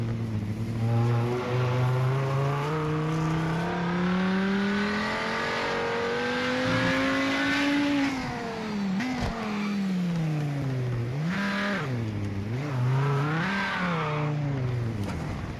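Race car engine in Project Motor Racing, a loud continuous howl that climbs and falls through gear changes, with sharp dips and rises as the car brakes and accelerates, no voices over it.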